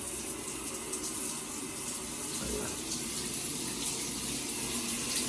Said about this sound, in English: we have your standard shower head there, extra shower head there.